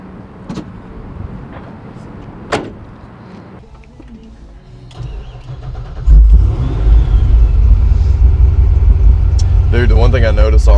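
A 1000HP patina C10 truck on a full IRS chassis fires up and revs, a deep loud engine roar swelling from quiet cabin sounds into a sustained rumble with rising pitch sweeps near the end.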